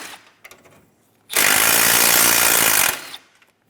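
A power tool spins off 10mm bolts from the hood latch of a 2014-2019 Toyota Highlander, one loud, close burst of about a second and a half between faint clicks and handling noise.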